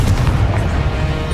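Confringo spell blast in Hogwarts Legacy: a deep booming explosion hits at once and rumbles low and heavy for about a second before tailing off.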